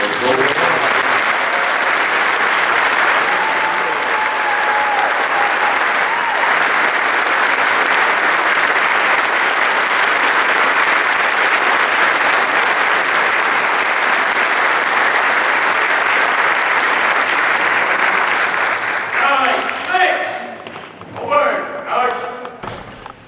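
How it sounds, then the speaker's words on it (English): An audience at a Gold Star cadet ceremony breaks into loud, sustained applause for the cadets, a steady wash of clapping that lasts about twenty seconds before tapering into scattered claps and voices. "Ladies and gentlemen, please join me in a round of applause for Gold Star"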